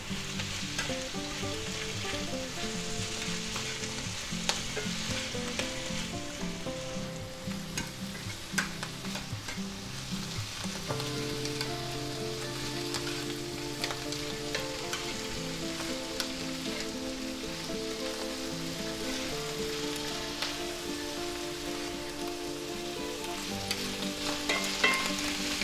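Smoked ham sizzles and fries steadily in a pan as it browns, a continuous dense crackle with occasional stirring, close and alone without any voices.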